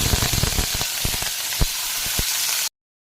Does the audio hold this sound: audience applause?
no